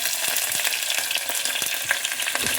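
Sliced onions with dried red chillies and green chillies frying in a pan for dal rice, giving a steady close sizzle with faint scraping stirs and no talk.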